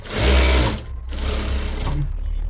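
A sewing machine stitches the sleeve of a double blouse, a close, loud motor hum in two runs with a short pause between them.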